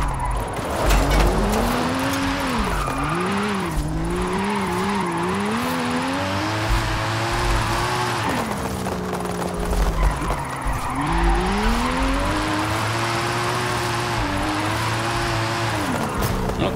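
Tyres squeal in drawn-out, wavering skids over a steady engine drone as a 2021 Bentley Flying Spur tuned to 1750 HP drifts in Forza Horizon 5, loud and continuous throughout.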